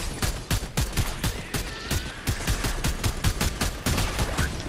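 Rapid, evenly spaced gunshots in the Fortnite video game, a loud close string of repeated firing with short gaps between volleys and no talk over it.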